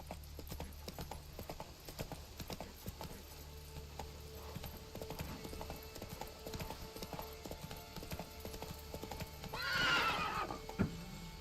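Hooves clip-clop steadily for a horse named Roach in a video game, with a loud neigh and whinny rising near the end over constant background game noise.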